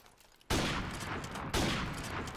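Gunfire in a sniper free-for-all match in a video game set on a beach map: two loud sharp shot bursts, each ringing out over a faint background.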